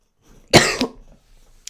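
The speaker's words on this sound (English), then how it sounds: "I got a cough." A single loud, close cough bursts out and trails off into a brief rasp, followed by near silence.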